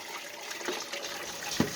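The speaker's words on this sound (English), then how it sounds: "now I'm going to take my boiling water" Boiling water poured from a pot onto dirty dishes in a kitchen sink, a steady close splashing gush that runs the whole time without a break.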